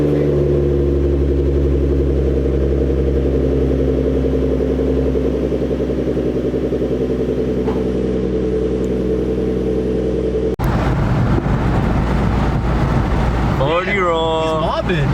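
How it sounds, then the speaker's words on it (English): A slow V6 Ford Mustang's engine drones steadily and loud as the car pulls up, with a harsher burst near the end; people talk over the engine noise. "we're gonna be pulling up in a slow V6 Mustang, and we're gonna be making all the cool noises as we're pulling up"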